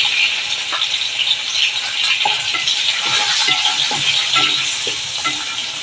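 Green chillies fry in hot oil in a pan, a steady close sizzle with occasional light stirring clinks and scrapes throughout.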